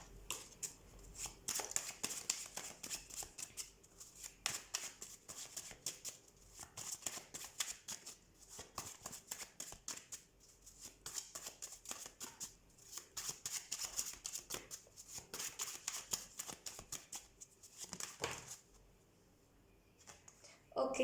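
Tarot cards are shuffled by hand, quietly and up close, in repeated riffling and sliding bursts with brief pauses between them. The shuffling stops near the end.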